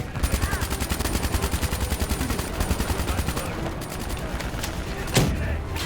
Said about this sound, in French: on tire comme des bourrins